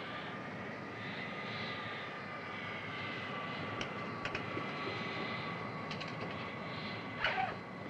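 Airplane engine roaring steadily through a takeoff in a 1964 film scene, a continuous broadband drone with faint rattles and a brief louder burst near the end, no talk.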